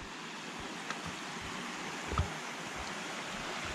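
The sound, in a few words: mountain creek water flowing, Lee Creek at Mt Rainier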